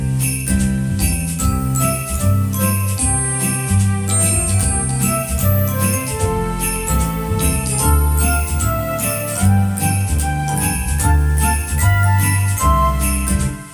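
A keyboard plays a full accompaniment style with steady bass, rhythmic chords and a bright melody running continuously, close and loud, with no talking.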